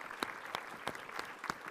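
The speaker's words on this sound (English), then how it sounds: "a big round of applause for our panel." Audience at a maternal and child health conference applauding a panel, a soft bed of clapping with about five sharper, evenly spaced claps standing out close by.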